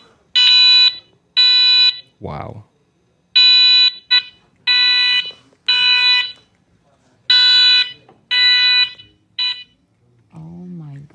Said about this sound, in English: this alarm just starts going off